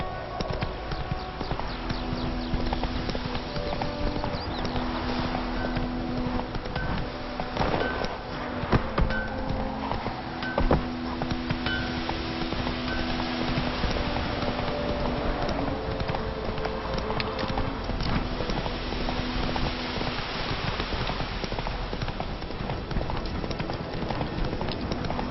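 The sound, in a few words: horse Roach galloping in video game The Witcher 3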